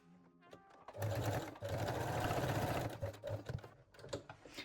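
A sewing machine backstitches seams with a straight stitch while making a fold-over-elastic sports bra, running in fast, loud mechanical bursts with brief pauses between them.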